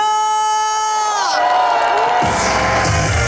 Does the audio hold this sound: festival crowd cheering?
yes